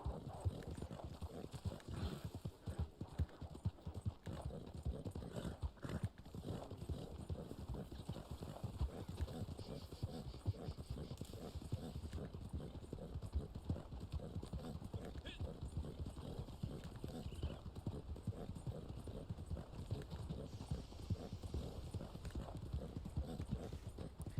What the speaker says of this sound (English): Go, horse, go. Go, horse, don't stop, just go.